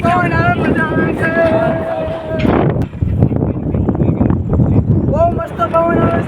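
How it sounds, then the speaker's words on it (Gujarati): Strong wind on a hill buffets the microphone in loud, rumbling gusts while people talk and shout nearby. "પવન આવે છે"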